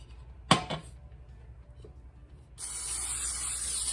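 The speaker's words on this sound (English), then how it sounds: "we've got to spray our bundt pan with spray" After a sharp knock, cooking spray hisses out in a steady, close stream onto a bundt pan that continues to the end.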